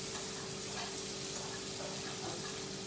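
Sliced onions sizzling and frying steadily in a pan for a Sindhi fish dish, a continuous close, even crackle with no pauses and no talking.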